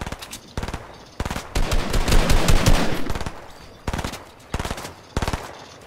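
Bursts of automatic gunfire from a Fortnite squad match, several rapid machine-gun volleys in short groups with a dense sustained stretch in the middle, loud and close.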